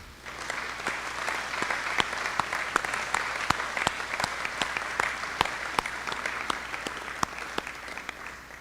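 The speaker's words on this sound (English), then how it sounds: "So join me in giving these kids a round of applause for their hard work." Audience at an FFA banquet claps for student competitors, a sustained round of applause with distinct sharp claps standing out over a dense, moderately distant patter.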